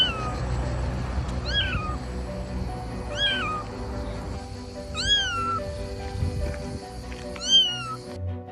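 A small kitten cries with four high, thin meows spaced a couple of seconds apart, close and clear over a low rumbling background.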